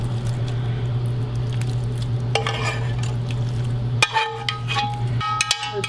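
Bacon frying in a pan in a home kitchen, a soft steady sizzle under a low hum, punctuated by several sharp clinks and scrapes of a utensil against the pan.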